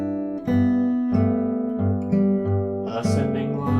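A guitar plays a descending line slowly, each plucked note or chord ringing out separately at a measured pace, close and clear with no voice.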